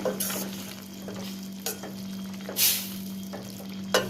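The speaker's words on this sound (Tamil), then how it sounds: "இதே நல்லா ஒரு வாட்டி கலந்து விடுங்க." Cowpea kara kulambu being stirred in a pot, with several scraping, sizzling swishes of a spoon at irregular intervals over a steady background hum, close and moderately loud.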